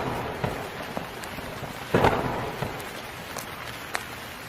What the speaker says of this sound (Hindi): भगवान की कृपा से अच्छी वर्षा होती है